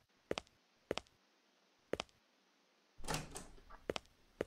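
Sharp clicks of a lock and latch come in a slow series in an adventure game, followed by a short rattling, scraping burst as the locked door swings open, all close and quiet with no talk.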